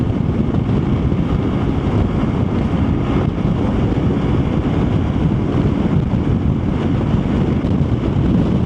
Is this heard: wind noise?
yes